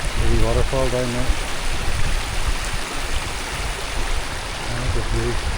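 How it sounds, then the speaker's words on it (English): A small forest waterfall and stream give a steady broadband rush of flowing water throughout, with a voice talking briefly near the start and again near the end. "The wee waterfall down there."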